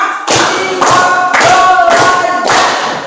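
Students in a classroom clap hands in unison on a count, five loud, evenly spaced group claps, each a crisp burst with a short ring and decay, close and prominent with no talk between them.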